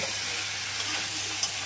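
Spice masala for chicken frying in a pan with dried red chillies, giving a steady, close sizzle that carries on evenly throughout.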